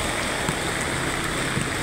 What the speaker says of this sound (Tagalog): Lalong lumakas yung ulan, guys.